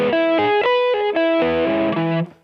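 Distorted electric guitar sweep-picked arpeggio played with poor note separation, notes smearing and ringing into each other in a fast rising and falling run, alone and fairly loud before cutting off.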